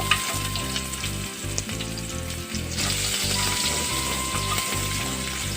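Onions frying in hot oil with panch phoron spices for an Assamese dish, a loud, close, crackling sizzle running steadily over a rhythmic low thumping beat in the background, no voices.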